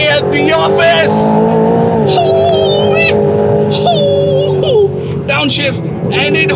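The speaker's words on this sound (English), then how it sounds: "just flick this switch, go into Sport Plus, stab the throttle" A 2025 Aston Martin Vantage accelerates hard in Sport Plus mode, its steady, loud engine drone running beneath someone talking almost throughout.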